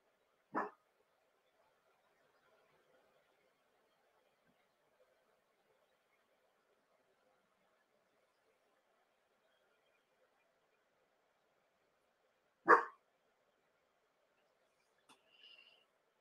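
Two sharp, loud barks from a dog indoors during a live painting session, one at the start and one near the end, with a faint low murmur between and a small soft sound just after the second bark.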